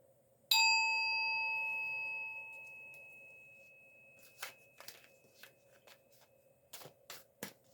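A deck of tarot cards is shuffled softly in a quiet room after a bright ringing chime, the crisp riffles coming in short, irregular bursts.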